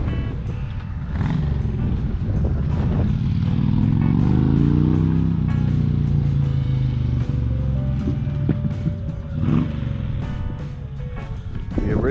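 A motorcycle engine runs at an AMCA swap meet in Oley, a steady loud rumble that rises in pitch as it revs up, then settles back to idle amid outdoor crowd noise.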